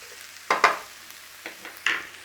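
Onions sizzling in a hot pan for a chicken bhuna, with a few sharp bursts of stirring and scraping over a steady fry, no voices.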